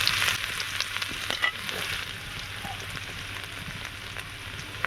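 Chopped ginger and garlic fry with asafoetida in hot oil for potato kachori, giving a steady, close, loud sizzle with a crackling spatter that fades slightly after the first second. No talking.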